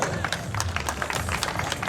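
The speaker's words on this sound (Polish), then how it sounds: "Gorące brawa" An audience at a strongman competition applauds, with scattered, irregular claps forming a steady patter of moderate loudness.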